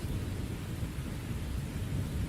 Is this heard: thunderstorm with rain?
yes